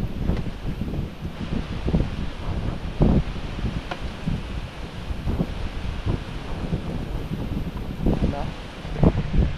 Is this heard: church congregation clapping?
no